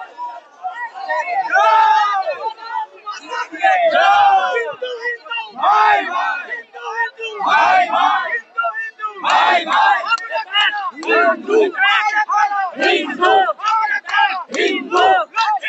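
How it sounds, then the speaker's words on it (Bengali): Protest crowd of Hindus in the street chanting slogans in unison, loud rhythmic shouted phrases repeating continuously with overlapping voices and crowd noise throughout. "চারিদিকে স্লোগান হিন্দু হিন্দু ভাই ভাই।"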